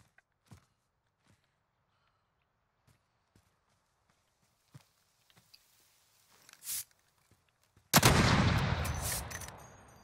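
Gunfire in the Call of Duty: Modern Warfare video game: scattered faint footsteps and taps, then a short burst, then one sudden loud shot with a long rolling decay near the end.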